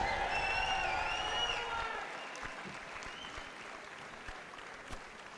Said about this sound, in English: how about one more round of applause for our 9 Lady Flames seniors?